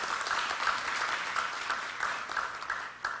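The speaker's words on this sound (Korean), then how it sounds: "우리 지도자님께도 큰 감사 박수 한번 부탁드려요" Audience applause at a policy forum on welfare held in a hall, a steady wash of clapping from a crowd lasting throughout, fairly loud and even with a few sharper claps standing out.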